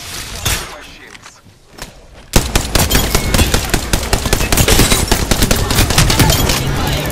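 Rapid automatic gunfire from the video game Apex Legends bursts in loudly after a quieter opening with a few scattered shots, then rattles on densely and continuously to the end.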